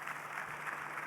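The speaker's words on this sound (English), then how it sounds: "Let's give him a round of applause," Audience applause at a conference session after the Prime Minister of Benin is introduced; a steady, moderately faint wash of clapping running evenly through the short stretch with no voices over it.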